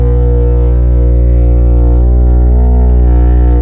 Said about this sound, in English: Here's a snare drum.